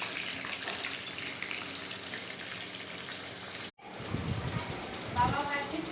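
Fish frying in a pan, a steady broadband sizzle that fills the first half, then a brief cut followed by closer, crackling sizzling with occasional stirring clatter.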